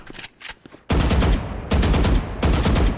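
Gunfire in the shooter game Valorant: faint clicks give way to three loud, rapid automatic bursts, each a dense rattling spray of shots separated by brief gaps.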